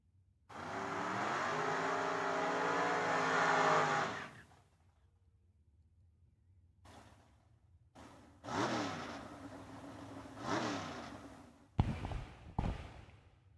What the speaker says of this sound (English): Burnouts complete as the drivers begin their staging process.